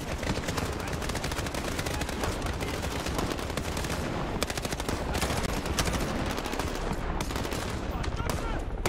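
Dense, continuous gunfire in Call of Duty: Modern Warfare, with rapid automatic bursts and overlapping shots filling the whole stretch at steady loudness and a voice faintly underneath.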